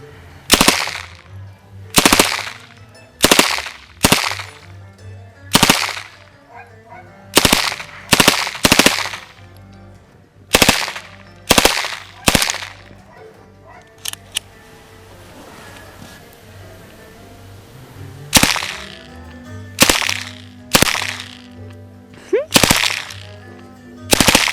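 An MK760 submachine gun fires repeatedly outdoors in loud, sharp bursts and single shots, with a quieter pause in the middle before the shooting resumes.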